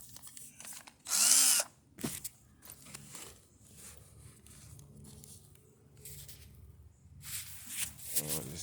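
A power drill sputters and bogs unevenly in a she shed, with a sharp whine burst near the start, brief bursts later, and faint talk in between.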